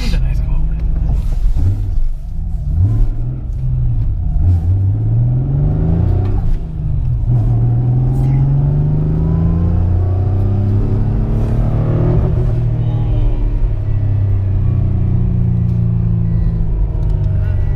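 Nissan GT-R engine fitted in a Toyota HiAce with the stock HiAce transmission, a deep continuous rumble revving up and down with rising and falling pitch sweeps, loud and close throughout.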